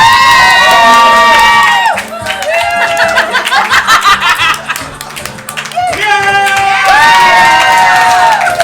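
A live game show studio audience cheers and shouts loudly and continuously, with excited voices rising in waves and some clapping and laughter mixed in.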